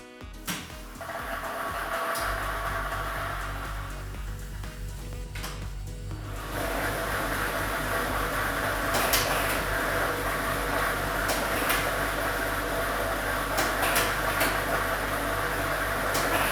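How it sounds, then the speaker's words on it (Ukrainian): A state lottery draw machine switches on and churns a set of numbered balls for a televised draw, a continuous loud mechanical whir with low hum and rattling clatter after a brief start-up. "Тиражна комісія до початку гри довільно обрала лототрон Б комплект кульок номер 3 І ми вмикаємо лототрон"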